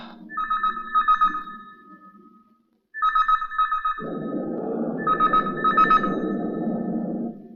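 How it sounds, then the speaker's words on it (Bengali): A telephone rings in repeated electronic bursts with brief pauses, loud and close, while a low music-like background swells in partway through. "দেখো তো কার ফোন এলো।"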